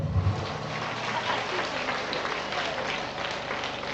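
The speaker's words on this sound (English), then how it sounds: "Let me clap for them." A gathering welcoming the United Christian Church gives a steady patter of applause, a dense hiss of many hands clapping at moderate volume that holds evenly throughout.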